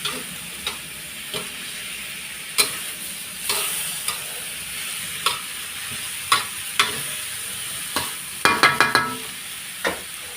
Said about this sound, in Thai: พัดไปเรื่อยๆ ให้พริกหยวกสุกจ้าแบบนี้